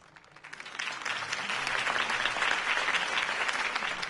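A crowd at a campaign rally in the Batman Telltale video game breaks into applause. It starts softly and swells within a second into a dense, steady roar of clapping that carries on to the end.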